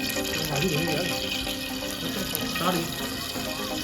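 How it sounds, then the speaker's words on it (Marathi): Vegetables are rinsed under running water at a riverside gathering by the Chandra river, with a steady splashing stream close by and people talking over it. "धुवून घे पाण्याने व्यवस्थित पाण्याने धुवून घे"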